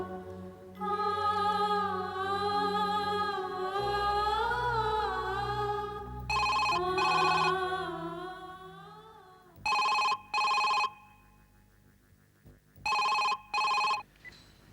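After a stretch of music, a telephone rings in three loud double bursts, separated by short pauses of near quiet.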